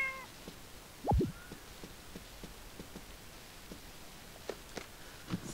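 A cat gives a short, fairly close meow, followed by a few faint, softer sounds over a quiet background with light ticking.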